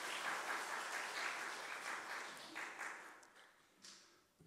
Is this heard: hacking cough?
no